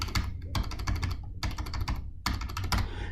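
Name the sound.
typing a credit card number on a computer keyboard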